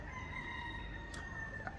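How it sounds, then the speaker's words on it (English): A faint rooster crow drifts in from a distance over a low, steady background hum. "I hear chickens crowing"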